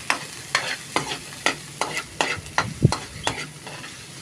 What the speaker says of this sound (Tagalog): Igigisa lang natin yung sibuyas at bawang sa mainit na mantika.